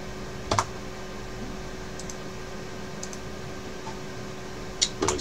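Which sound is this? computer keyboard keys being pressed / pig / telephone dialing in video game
computer keyboard keys being pressed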